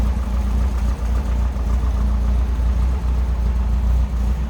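A 1965 Volkswagen Beetle with a 1900cc air-cooled engine idles close by, a steady, throbbing low rumble with an even pulse and no talk over it.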